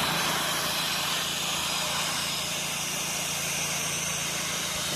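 A soft-wash pressure washing rig's engine hums steadily behind a muffler, a constant, even drone that holds without change and with no voices.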